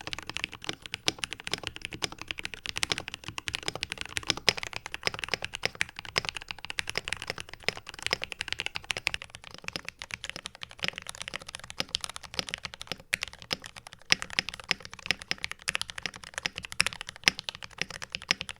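Continuous fast typing on a KBD67v3 mechanical keyboard, a steady dense clatter of keystrokes at a moderate, fairly quiet level, with no voices.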